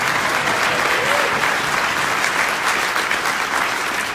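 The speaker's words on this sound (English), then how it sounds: "Yes, that is something to clap about." An audience gives sustained applause at a district attorney forum, a dense, steady patter of clapping from a crowd that lasts the whole few seconds without pause.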